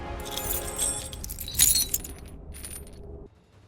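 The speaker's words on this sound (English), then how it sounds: "Keys." A bunch of keys jangles and clinks in a game scene, bright metallic rattling with a louder burst midway, then cutting off into near silence.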